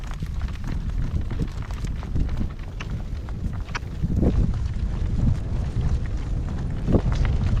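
Strong, cold wind gusting around a car as it drives during a gale-force storm, a steady loud rush with low rumble and swelling gusts, no talking.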